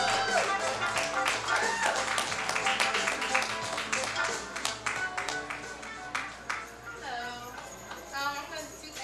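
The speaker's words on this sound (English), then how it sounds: "Clap for this girl. Clap, please." Audience clapping for a singer at a community art and coffee open-mic night, steady patter over music and lively chatter, with cheering voices rising through the middle.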